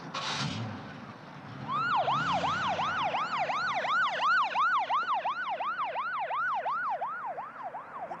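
Ambulance siren wailing in a steady, repeating rise-and-fall pattern, loud and close, sweeping on for several seconds after a brief noisy burst at the start.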